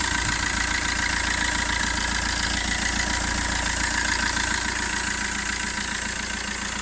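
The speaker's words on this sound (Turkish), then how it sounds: "İşte arkadaşlar, zincir değiştikten sonra ses bu şekilde." A Fiat Linea engine idles after a timing chain replacement, giving a steady, even mid-pitched hum with a fine regular ticking texture. It runs close and alone, with no talk.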